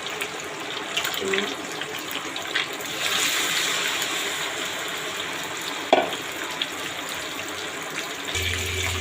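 Fish pieces fry in hot mustard oil, a steady sizzling hiss with brief clinks. The sound is continuous at moderate volume, with no one talking.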